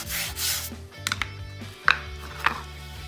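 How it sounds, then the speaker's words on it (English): A spot is scrubbed by hand with Norwex cleaning paste, giving a soft, continuous rubbing and scraping with a few sharper scuffs, close and fairly quiet. "Over to the spot and start cleaning. Just scrub, scrub."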